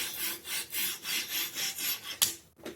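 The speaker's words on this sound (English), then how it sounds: "this cheap budget knife will get a brand new life now just with those few strokes on a 400 stone" A budget knife drawn back and forth on a 400 grit sharpening stone, a rhythmic series of even gritty rasping strokes, about nine in quick succession, close and alone.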